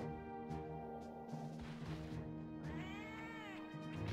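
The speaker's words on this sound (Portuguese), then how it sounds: "Olha o gatinho." A cat character in Monster Hunter Freedom gives a short meow near the end, heard over game background music and effects.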